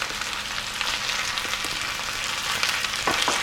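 Potatoes and onions frying in a pan for breakfast, a loud continuous crackling sizzle close up, with a few soft knocks near the end.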